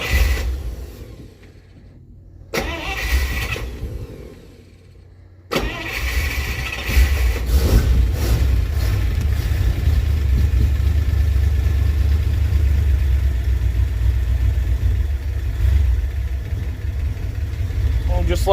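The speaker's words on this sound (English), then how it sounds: "Let's see how this thing cold starts today." A 1966 Dodge W200 truck engine cold-starts after a couple of brief cranking attempts, then catches and settles into a steady, loud, rumbling idle that runs to the end.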